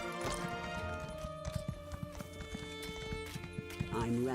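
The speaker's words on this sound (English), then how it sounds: "Let's get on our horse and do this." A horse's hooves clip-clop at a steady pace in the game Elder Scrolls Online, loud and continuous under game music and a talking voice.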